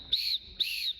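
Two sharp, shrill whistle blasts, each lasting about a quarter second, sound close and clear with a short pause between them.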